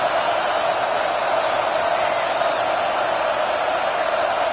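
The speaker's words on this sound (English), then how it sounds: "how nice is it to have the home crowd going absolutely bananas?" A home crowd at a football game roars in a steady, dense wash of noise, loud and unbroken throughout, with no distinct voices standing out.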